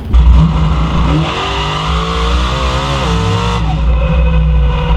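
A nitrous-injected drag race car with four-link rear suspension roars steadily throughout a pass, its pitch climbing as it accelerates, with a continuous, heavy mechanical rumble and no talking.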